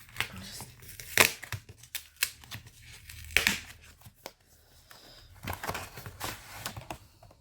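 Crinkling plastic and tearing packaging as a craft product haul package is opened up close, with a few sharp rips and rustles between quieter pauses, and soft talk now and then.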